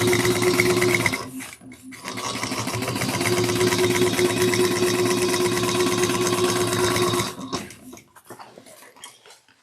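A sewing machine runs fast and steady for about six seconds while top stitching an eighth of an inch on a lining piece for a fold-over cross-body bag, then stops, leaving faint handling noises.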